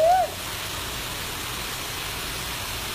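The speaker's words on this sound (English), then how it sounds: "But check the waterfall out." A waterfall pours in heavy rain, a steady broadband roar of rushing water that holds even and loud throughout, with a brief tone at the very start.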